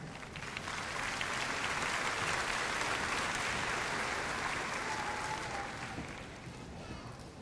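An audience at a May 2019 SOWELA commencement ceremony breaks into sustained, dense applause for a speaker being introduced, building quickly, holding steady, then thinning toward the end.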